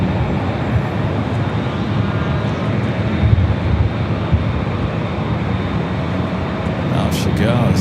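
A Boeing 757 bound for Atlanta takes off from Los Angeles International Airport. Its jet roar is a steady, loud, broadband rush with wind buffeting on the microphone, and it stays constant throughout.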